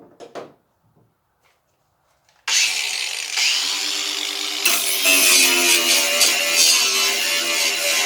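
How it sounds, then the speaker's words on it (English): An angle grinder cuts into metal in a car's engine bay during a cleanup of a 530Z project car, a loud steady high whine that starts abruptly after near silence and grows harsher partway through. "Maybe a little more, just grind it off."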